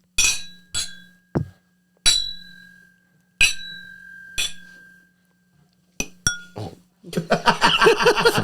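Glasses clink together in a toast among friends recording a podcast, with several sharp ringing chinks spaced across the first six seconds before laughter and talk take over.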